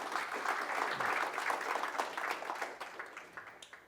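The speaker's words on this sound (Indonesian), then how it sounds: "Boleh tepuk tangan semuanya." Audience applause at an Indonesian advocates' swearing-in ceremony in Jakarta; a room full of steady clapping that gradually thins and tapers off over a few seconds.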